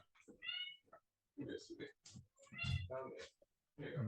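A house cat meows once, a clear, drawn-out cry near the start. A person then talks at length in a quiet indoor room.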